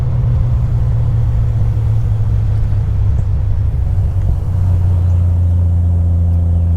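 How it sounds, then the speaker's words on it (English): A 1974 Triumph TR6 engine pulls steadily up a grade in third gear, a loud, deep, continuous rumbling drone heard from inside the car with no break. "we're in third gear and taking a grade effortlessly"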